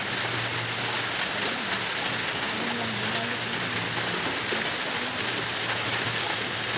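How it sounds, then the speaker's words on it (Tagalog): Steady light rain patters across a surface, a constant soft hiss with a faint low hum beneath and a few muffled voices. "hindi pa masyadong malakas yung ulan"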